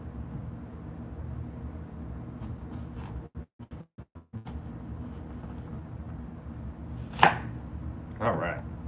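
A knife chopping onion slices while double cheeseburgers are prepared, a quick burst of several choppy taps over a steady background hum, followed by a couple of brighter clinks.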